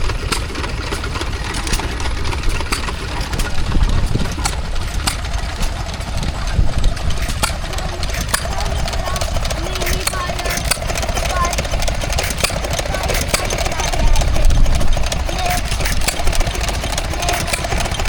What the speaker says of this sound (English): This is a Monarch stationary engine powering a small water pump.